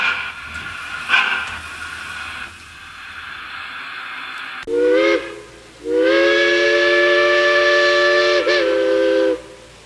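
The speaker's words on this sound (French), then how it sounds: "Et faire démarrer ma locomotive." Massoth digital sound module on a model steam locomotive plays a loud, sustained steam whistle with harmonic tones, preceded by hissing steam and chuffing noises, the whistle sounding twice in the second half.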